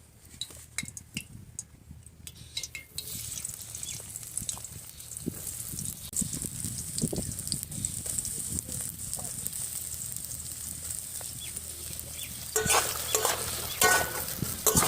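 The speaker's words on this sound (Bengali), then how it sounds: "সোয়াবিনটা হালকা করে ভেজে নেব।" Soybean chunks fry in oil with goat fat, a continuous crackling sizzle under repeated spatula stirring and clinks against the pan, growing brighter toward the end.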